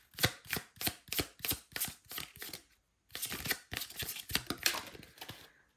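Tarot cards are shuffled by hand in quick crisp riffling bursts, a run of rapid flicks, a short pause, then another quick flurry, faint and close with no talk.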